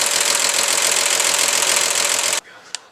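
A 1952 Chevrolet Styleline inline-six, the 216/235, runs steadily with the valve cover off as it warms up, a dense loud mechanical clatter. It cuts off abruptly near the end, leaving a faint click in near silence.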